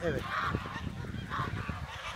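Geese on a farm honk repeatedly as they head back to their shelter, nasal calls rising over a soft, busy background, with a brief spoken word at the start.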